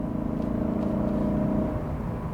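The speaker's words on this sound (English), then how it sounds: "it just starts breathing heavily, and it just makes that lovely induction howl" A 2022 Lexus IS 500 F-Sport Performance engine holds a steady, loud high-rpm induction howl, a sustained droning tone heard from close by with no pauses.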